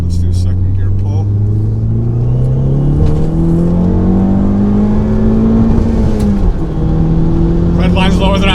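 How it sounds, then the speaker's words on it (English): A tuned Fiat 500 Abarth pulls hard in second gear, its engine note rising steadily in pitch under load, loud and close from inside the cabin, with a brief dip near the top before it carries on. "Let's do second gear pull."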